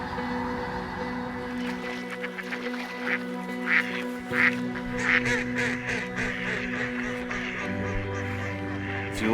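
Several ducks quacking repeatedly in bursts over a steady outdoor background, fairly close, with no one speaking.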